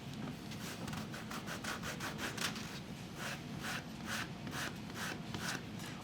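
Sandpaper rubs back and forth along the edge of a handmade leather card holder wallet in a steady, close rhythm of rasping strokes, with no talk.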